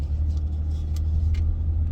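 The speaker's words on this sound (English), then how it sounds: "So when I punch the gas" A 2014 Dodge Charger Pursuit accelerates hard, its engine a loud, steady low rumble heard from inside the cabin, with no one talking.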